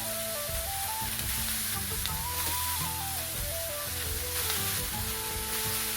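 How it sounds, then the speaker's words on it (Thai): Tofu, radish and carrot stir-fry in a hot pan, giving a loud, continuous sizzle with soft stirring scrapes, alone and steady throughout, with faint music underneath. "ผัดต่อให้ผักเริ่มสุกเริ่มนิ่มเลยนะครับ"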